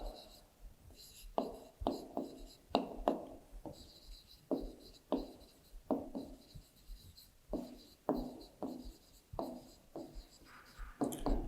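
Rhythmic scratching strokes of writing on a board or paper during a class 3 maths subtraction lesson, about a dozen short strokes at a steady pace, close and clear, with soft background noise.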